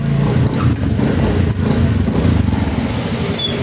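A motorcycle carries a heavy load with two riders aboard, its engine giving a loud, steady, labouring drone with slight rattling and no talk.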